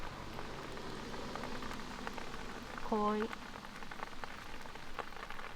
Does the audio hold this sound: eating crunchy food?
no